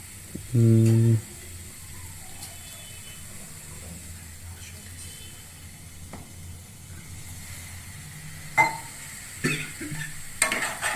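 Stirring vegetables for Italian pasta in a very hot pan: a short, loud scrape first, then a steady, soft sizzle with scattered clinks and scrapes toward the end. No one talks.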